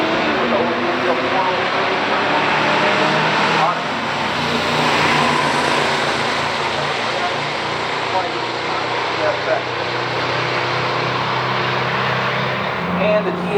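A 1971 Buick GSX with a 350 and Turbo 350 automatic races a 1979 Pontiac Trans Am with an Oldsmobile V8 at a pure stock drag race, loud sustained engine roar throughout with a brief dip near four seconds and an announcer talking over it.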